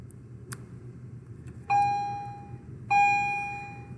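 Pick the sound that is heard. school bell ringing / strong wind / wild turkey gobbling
school bell ringing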